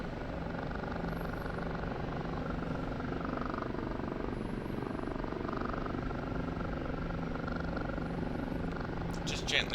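An OH-58D Kiowa Warrior helicopter in the DCS flight simulator gives off a steady, even rotor and engine drone in flight, with no change in level throughout.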